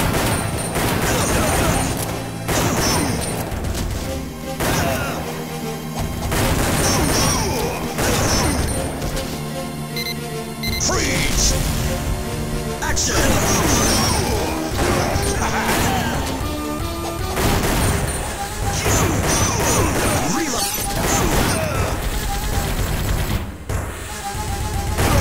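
Arcade shooter Time Crisis playing loudly, dense bursts of gunfire, smashing crashes and impacts layered over game music, with a brief shouted game voice.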